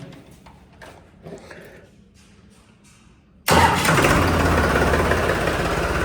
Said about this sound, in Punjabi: tractor start